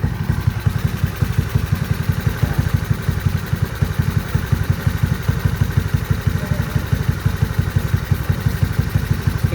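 A motorcycle engine fitted with a Solfili 28mm PWK flat slide carburetor runs close and loud, a rapid, even pulsing throb that holds steady with slight rises in revs throughout.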